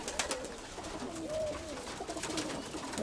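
A pigeon coos softly, low rolling notes drifting under steady background noise and faint clicks, close but not loud.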